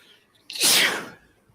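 A single loud, sharp sneeze bursts out close by, then fades into quiet.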